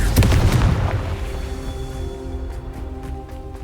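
A Confringo blasting spell detonates in Hogwarts Legacy with a loud, close boom at the start, followed by a ringing magical tail and scattered debris crackles that fade away.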